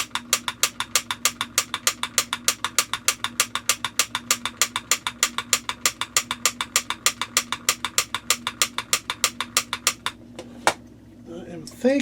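A Light Keeper Pro repair tool clicks repeatedly on a string of 40-count double flasher Christmas lights, a fast steady train of sharp clicks about four per second for ten seconds, then stopping, close and distinct.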